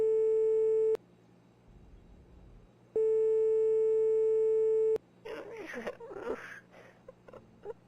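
Phone call tone in a video game: two long, steady electronic beeps, each about a second, separated by a pause, followed by a distorted telephone voice speaking.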